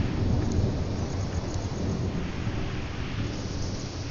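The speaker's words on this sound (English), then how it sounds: "It's so hard to hear when that thunder goes off like that." Deep, continuous thunder rumbles loud and close for the whole stretch, with steady rain noise and no talking.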